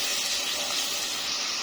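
Spice paste for Lahori chikar cholay frying in a pan, a steady close hiss and sizzle holding evenly throughout with no talk.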